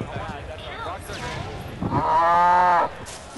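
A cow moo played as an animal noise from an iPhone at a gaming event, a single loud, drawn-out low call lasting about a second amid crowd noise and talk.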